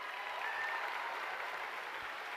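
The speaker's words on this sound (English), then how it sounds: "Let's give him another round of applause." A crowd applauds at the BC Summer Games opening ceremonies with steady, sustained clapping that sounds quiet and distant and continues throughout.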